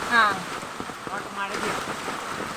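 Steady monsoon rain patters and hisses on a surface throughout, during flooding as the Meenachil River overflows into yards, with a brief voice heard at the very start.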